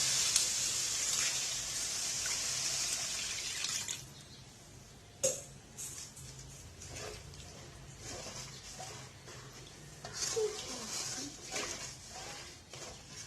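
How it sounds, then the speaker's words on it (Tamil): Water pours with a steady splashing hiss into a pan of potato masala for a few seconds, then gives way to quieter clinks and scraping in the kitchen. "தேவையான அளவு தண்ணி சேர்த்துக்கலாம்."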